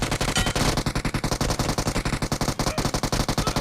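Rapid automatic gunfire from a video game, loud and continuous, with dense regular bursts running the whole time and no talk over it.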